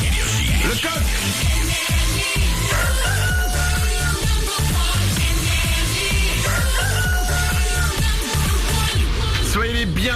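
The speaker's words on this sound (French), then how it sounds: "Le coq." A rooster crows repeatedly as a loud radio jingle sound effect at the top of a French morning show, layered over dense music.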